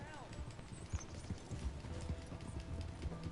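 A horse's hooves clip-clop at a steady trotting rhythm in a video game, the hoofbeats fairly close and repeated throughout, with a voice talking over them.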